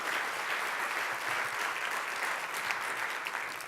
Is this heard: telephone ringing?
no